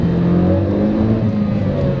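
A Ford Focus ST pulls away in first gear at around 15 mph with traction control on, its engine droning loudly and steadily from inside the cabin with no talk.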